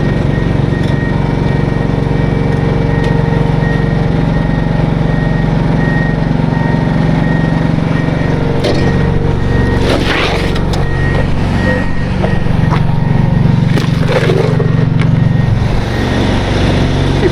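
A truck manoeuvres into position with a steady, loud engine rumble and repeated reversing beeps while equipment is moved away from a threatening wildfire; sharper clanks and knocks break in near the middle.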